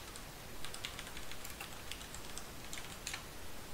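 Typing on a computer keyboard, a run of quick faint key clicks in an irregular rhythm over steady background hiss.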